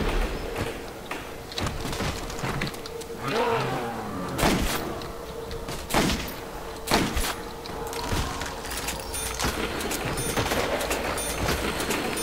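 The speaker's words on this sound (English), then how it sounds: "I'm just repairing the windows as I go." Window barricades being repaired in Call of Duty: World at War Nazi Zombies, with several heavy thuds and board slams spread over a constant busy game din. There is no speech.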